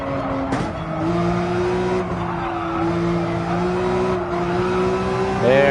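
A race car in Gran Turismo 7 powering out of a corner at Dragon's Trail, its engine note climbing steadily under throttle with a faint tire squeal, loud and continuous.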